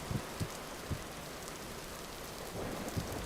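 Heavy torrential rain pours in a video game, a dense steady hiss with scattered low thumps that swells slightly toward the end, with no voices.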